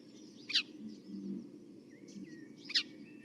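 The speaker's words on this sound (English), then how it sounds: "this is actually apparently the male house sparrow's song" Two short bright chirps from a male house sparrow, one near the start and one near the end, over a low steady background rumble, singing in a garden or park setting.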